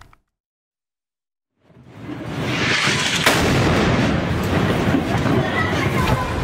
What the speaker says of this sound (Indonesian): Rekaman video menunjukkan dahsyatnya ledakan bangunan di kota Gaza.